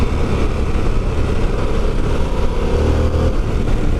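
Harley-Davidson Pan American motorcycle engine running steadily, a loud, close, continuous low rumble with slight surges in throttle and no talk over it.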